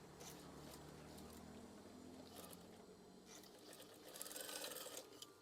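A sewing machine stitches curtain fabric with a steady, close mechanical whirr that runs for the whole stretch. The clatter grows louder for a moment near the end, and no one speaks.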